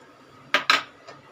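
Pepper rice with cut roasted cashews is mixed in a pan, giving two close, sharp utensil scrapes and clanks against the metal, then a fainter third knock, with no talking.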